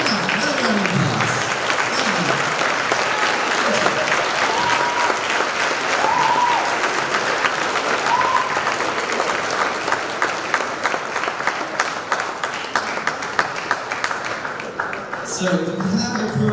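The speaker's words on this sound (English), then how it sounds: "another round of applause" Sustained applause from a concert audience at a school STEM band performance, steady and full for over fifteen seconds, with a few voices and cheers mixed in and some speech near the end.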